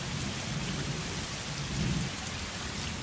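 Steady rain and thunder sound effect, a continuous broadband hiss of falling rain with a low rumbling swell of thunder near the end, heard alone at a constant level.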